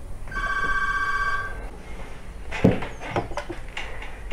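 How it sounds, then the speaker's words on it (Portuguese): A telephone bell rings in one long, steady electronic trill for over a second, loud and close, followed by clatter and handling noises as the call is picked up. "Um telefone está tocando."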